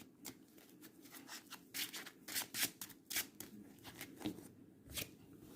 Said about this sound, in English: So we shuffle our deck.